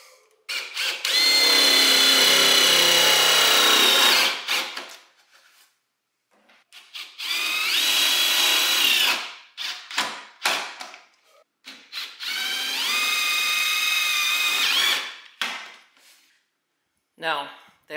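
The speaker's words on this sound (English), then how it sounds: "Now, I'm going to take and mount my studs. With some self-tapping screws." A power drill drives self-tapping screws to mount battery studs during a lithium battery conversion on a Club Car golf cart. There are three loud, sustained whirring runs of several seconds each, with short clicks and handling noises between them.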